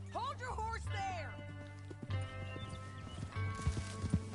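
Horse hooves clip-clop in a video game, a few knocks standing out alongside a horse's whinny, laid under game dialogue and a low steady background drone.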